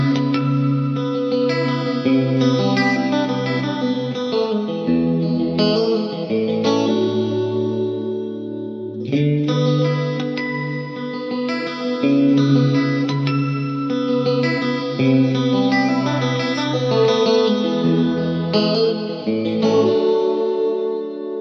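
Chase Bliss Mood pedal running on its internal oscillation, a dense, continuous wash of effected, chorus-like layered tones with a brief dip near the middle, loud and steady throughout without any talking.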